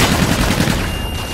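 An aircraft strafes on a gun run in the shooter Call of Duty: Infinite Warfare, a loud, close, unbroken stream of rapid cannon fire that roars through the whole brief burst.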